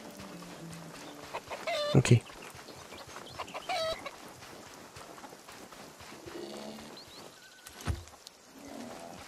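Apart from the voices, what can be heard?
chickens clucking in a video game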